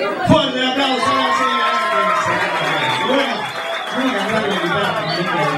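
Audience at a singing bar claps and cheers after a performance, a dense wash of applause and crowd chatter with scattered laughter, fairly loud and continuous throughout.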